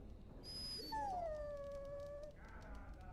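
In the fantasy video game Dragon Age: Origins, a dog lets out drawn-out, high whimpering whines that rise and slide downward. Faint game ambience runs underneath.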